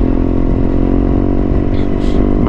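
BMW GS 1200 motorcycle engine droning steadily while riding on a long straight highway, a loud continuous low rumble with wind noise and a couple of brief higher swishes near the end.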